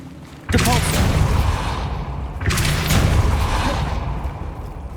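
Depulso spell cast in the video game Hogwarts Legacy: two loud, booming blasts, roughly two seconds apart. Each one starts with a sharp burst and leaves a rumbling, noisy tail.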